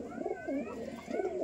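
Naptha and kaldom pigeons coo in a continuous low, rolling murmur, with several birds overlapping close by in a steady, throaty warble.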